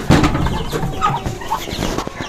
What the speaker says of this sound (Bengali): তারপরে হচ্ছে আমাদের আরেকটা মুরগি